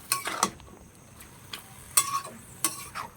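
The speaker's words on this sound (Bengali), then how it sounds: "এটাকে আমার ভালো করে নাড়াচাড়া দেওয়া হয়ে গেল" A pan of spinach and prawn curry is stirred, with a few sharp metallic scrapes and clinks of the spoon against the pan over a soft sizzle, close and intermittent.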